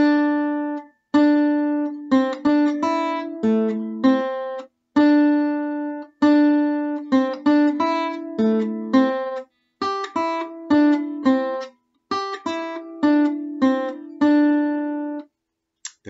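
A song riff plays at slow speed on a clean, plucked tuned instrument, single notes in short repeating phrases with brief gaps between passages, close and clear with no voices.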